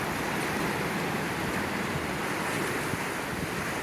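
Swollen, flooded river in Gatlinburg in the Great Smoky Mountains, rushing swiftly past the river walk: a steady, loud broadband roar of churning water that never lets up, with no voices.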